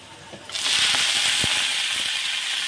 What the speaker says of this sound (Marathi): लसूण आणि जिरे चांगले तडतडलेले आहेत आपले